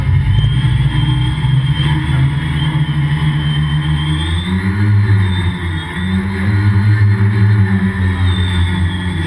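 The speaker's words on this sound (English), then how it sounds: "Sounds like cars." Steady road traffic noise of cars driving by, a continuous loud low rumble with engine tones swelling and fading as vehicles pass, no talk over it.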